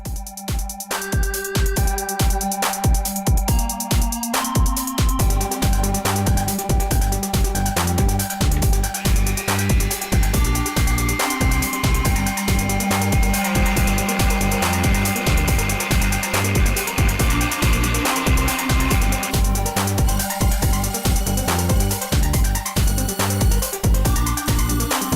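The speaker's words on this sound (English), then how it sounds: "I'll go back in with the Dremel, rotate the Dremel around the inside of the hole, which will expand the hole and make it a little bit bigger." A Dremel rotary tool grinds around the inside of a hole in fused glass, a sustained high whine with a rapid pulsing rhythm running steadily and loudly up close throughout.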